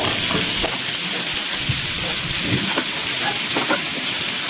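Chopped tomato and onion frying in oil for chicken do pyaza, a steady close sizzle with soft scraping and stirring knocks at irregular intervals, no speech.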